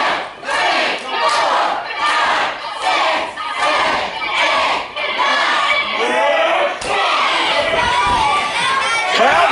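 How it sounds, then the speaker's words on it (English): A large wrestling crowd chants in loud rhythmic bursts during a match, the pulsing shouts rising and falling every second or so, close and dense with occasional thuds. "Crowd is chanting along."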